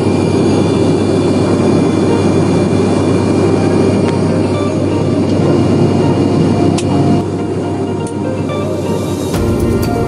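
Steady, loud airliner engine drone fills the passenger cabin in flight while passing through clouds, a constant low roar with faint clicks and rattles, easing slightly near the end.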